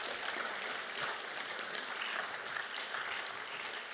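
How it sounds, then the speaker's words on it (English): Audience at a Temple Shalom honors event applauding its honorees, a dense sustained sheet of clapping from many hands that holds at an even level throughout. "Let's all give a round of applause for our honorees"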